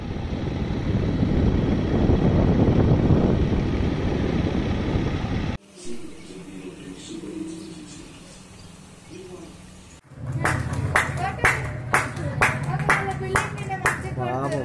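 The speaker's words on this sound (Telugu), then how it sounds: "వారి వాకిళ్లలోకి వచ్చి చప్పట్లతో అభినందించారు." People clap from their doorways during the Janata curfew in Kompally, Qutbullapur, Medchal district. A dense, sustained patter of many hands comes first, then quieter street ambience, then sharper, closer claps with voices mixed in.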